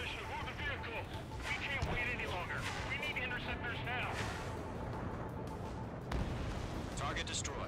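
Anti-air guns in Ace Combat 7 pound away in dull rolling bursts beneath a steady jet roar, with a person talking over much of the firing.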